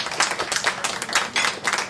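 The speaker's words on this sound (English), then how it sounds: "let's give Smokin' Joe a big round of applause" An audience at a February 2010 showcase panel claps for panelist Smokin' Joe, a close, lively patter of hands in uneven surges across the whole stretch.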